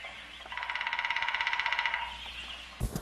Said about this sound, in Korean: 사방이 고요해서 그런지 딱따구리 소리가 더 또렷하게 들립니다.